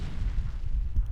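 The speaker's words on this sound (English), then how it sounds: "that is a lot of siege tank and cannons" Siege tanks and cannons firing in StarCraft: Brood War, a dense, continuous low rumble of booming shots and blasts with no pause, loud and close.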